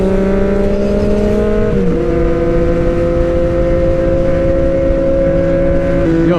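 A Yamaha MT-09 motorcycle engine drones loudly and steadily while riding, holding a constant pitch and then shifting down in tone briefly about two seconds in and again near the end, with wind and road noise underneath.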